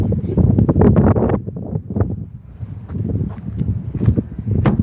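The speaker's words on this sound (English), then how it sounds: "Boiling hot and windy." Strong gusting wind on a hot day buffets the microphone, a steady low roar that swells and dips throughout.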